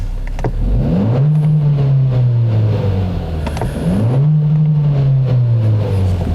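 A 2016 Kia Optima engine, heard close with the hood open, revs up twice in two strong rising sweeps that fall back to idle between them, loud and with no talking.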